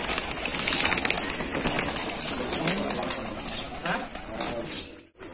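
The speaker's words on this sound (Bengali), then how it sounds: "হায়দার আঙ্কেল এখানে 100 থেকে 120টা কবুতর আছে" Pigeons at a large pigeon farm, soft cooing and a rustle of flapping wings over a busy background of birds and room noise, fading out abruptly near the end.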